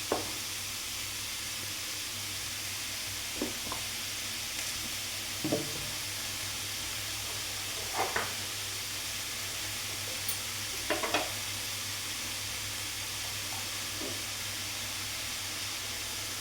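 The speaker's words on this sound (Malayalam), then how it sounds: "പോരാത്ത വെളിച്ചെണ്ണ ഒഴിച്ചു കൊടുക്കാം" Coconut oil sizzles in a pan as a steady, fairly quiet hiss that carries through the whole clip, with a few soft clinks and taps scattered over it and no voices.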